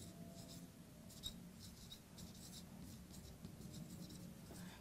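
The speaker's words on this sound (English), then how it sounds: "I'm just going to write it on the board." Chalk or marker scratches across a classroom board in quick, faint strokes, a soft rhythmic scribbling over quiet room tone with no voices.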